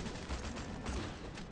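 Rapid gunfire from the Suicide Squad video game, a quiet but dense rattle of shots with a couple of heavier bursts, with no voices.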